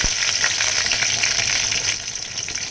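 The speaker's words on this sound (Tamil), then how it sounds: "பொரிஞ்சதுக்கப்புறம் கொஞ்சமாக கருவேப்பிலை தழை போட்டுக்கலாம்." Curry leaves spluttering in hot oil in a pan, a dense, steady crackling sizzle heard close up that eases slightly near the end, with no voices.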